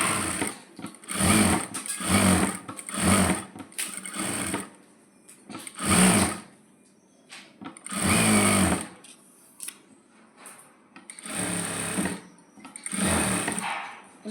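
An electric sewing machine stitches the folded cross piece of a coat in repeated bursts of fast, close whirring that stop and start in a steady working rhythm, loud and near, with no talk.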